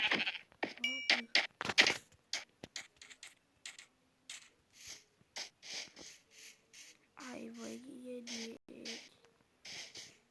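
Short electronic sheep bleats in Minecraft repeat among clicking and tapping noises, with a person talking intermittently throughout.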